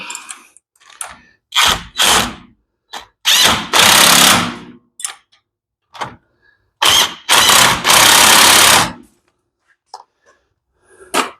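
Power tool tightening wheel nuts on a car, several sharp bursts of whirring and rattling, the longer ones lasting about a second, separated by silent gaps, close and loud.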